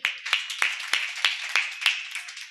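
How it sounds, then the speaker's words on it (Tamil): Hands clap in a steady rhythm of about eight claps, one every third of a second, sharp and fairly close, with no talking over them. "கைத்தட்டு"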